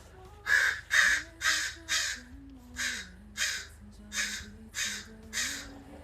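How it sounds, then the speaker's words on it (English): A bird, probably a crow, calls loudly outdoors in a run of about eight harsh, evenly spaced caws, each one strong and close, over a steady low electrical hum. "And there's a crazy bird now."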